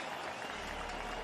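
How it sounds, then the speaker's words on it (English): A packed riverbank crowd at a BMX freestyle park World Cup in Montpellier claps and cheers, a dense, steady wash of applause at moderate distance, brief and continuous. "The riverbank here, the Les River in Montpellier, is packed and cheering for a defending champion in the FIS."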